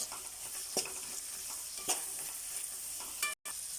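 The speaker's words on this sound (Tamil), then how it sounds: "பீன்ஸ் வதங்கிறதுக்கு கொஞ்சம் டைம் எடுக்கும்" Green beans and other vegetables sauté in a pan for koththu chapathi, sending up a constant soft sizzle broken by a few brief stirring scrapes.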